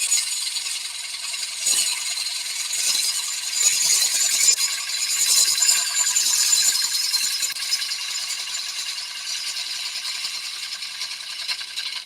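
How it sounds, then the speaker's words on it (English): A 1/2 inch bull gouge carves wood in a steady, close-up run of dry, scratchy scraping that holds at an even level for the whole stretch without a break. "The gouge I was using is, we call that a 1/2 inch bull gouge because in the UK we measure across the flute."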